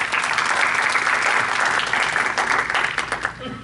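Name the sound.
audience applause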